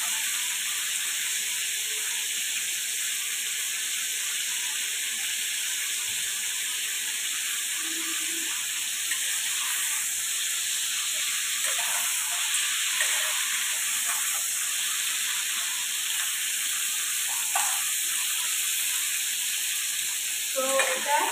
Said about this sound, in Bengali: এটা আগে ফ্রাই করে নিলে এটা ভালো হয়।